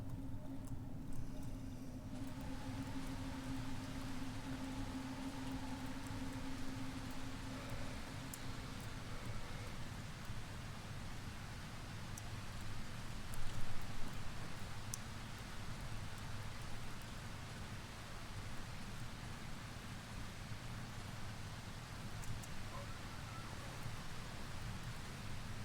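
Steady, soft rain patters throughout in the video game Darkwood, a faint, even hiss of drops with a brief louder swell midway.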